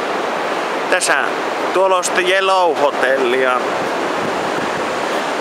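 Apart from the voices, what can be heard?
ocean waves on sandy beach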